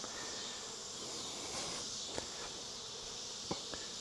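Honeybees hum in a steady, dense drone at an open hive during a varroa mite test, close and continuous, with a few faint clicks of handling and no talking.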